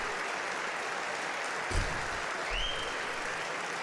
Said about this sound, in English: I guess we'll allow them to stand and clap